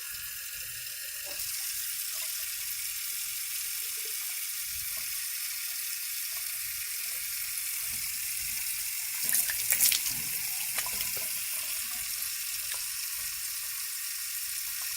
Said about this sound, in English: I'm about to go rinse my mouth